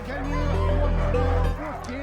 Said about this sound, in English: Those dogs aren't howling, they're screaming to run